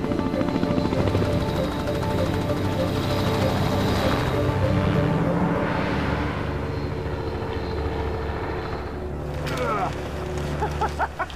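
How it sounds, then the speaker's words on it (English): A helicopter flies into a remote Arctic valley, its steady rotor and engine drone loud and close throughout, with the pitch shifting as it maneuvers and a brief whine toward the end. "when the helicopter drops you off in the Arctic for the first time"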